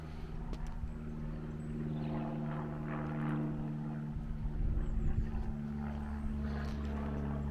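A propeller airplane drones overhead above a quiet Cotswolds village with a church, a steady low hum under gusting wind noise, swelling slightly midway.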